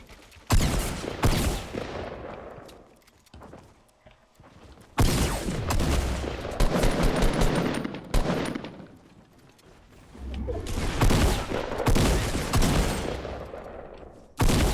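Sniper and assault-rifle fire in Fortnite: Battle Royale, with loud bursts of rapid shots in three clusters separated by quieter gaps. No voices are heard.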